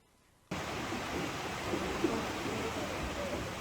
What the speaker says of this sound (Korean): 비둘기낭 폭포가 정말 신비롭고 이쁩니다.